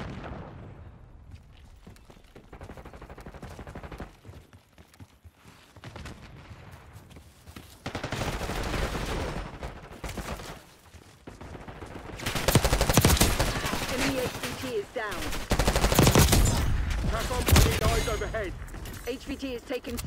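Gunfire in a Call of Duty Black Ops 6 multiplayer match on the Derelict map, with MP5 bursts and scattered shots that build into heavy fusillades near the end, mixed with game voice callouts.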